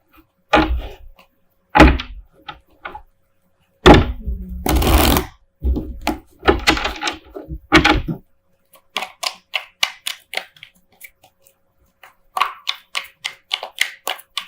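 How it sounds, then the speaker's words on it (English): Tarot cards being shuffled in quick riffles and snaps, a burst of loud shuffling followed by lighter rhythmic flicking, close up with no talking. "while I'm shuffling"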